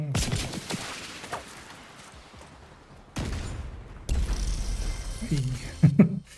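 Gunshots in The Division, a few sharp loud reports separated by quieter stretches, with a person talking between them.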